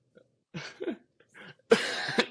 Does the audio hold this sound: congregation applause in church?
no